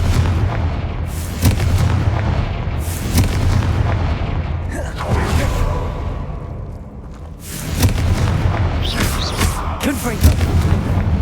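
Repeated Confringo blasting-spell explosions in the Hogwarts Legacy video game, a string of loud booming bursts over several seconds amid dense combat noise, with a voice calling out between them.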